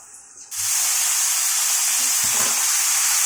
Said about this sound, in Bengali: মশলাগুলো নেড়ে চেড়ে এবার কচু শাকটা দিয়ে দেবো, সেদ্ধ করা কচু শাকটা দিয়ে দেবো।